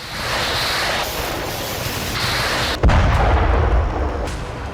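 Steady roaring rumble, then one heavy, close boom about midway from a drone attack in Salsk, Russia, with the low thunder lingering afterward.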